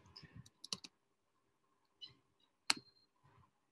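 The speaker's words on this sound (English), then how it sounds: "Are you typing something in the chat window or on the screen?" Typing on a computer keyboard in a chat window, heard as a few quiet, sparse clicks and taps in short clusters with one sharper key strike, over a near-silent background.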